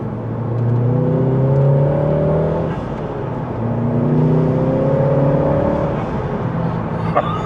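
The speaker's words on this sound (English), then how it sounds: "There's going to be loads of road noise and induction noise." A Mk7 VW Golf GTI Clubsport S driving on the road, engine and induction noise rising in two accelerating pulls with gear changes, heard from inside over steady road rumble.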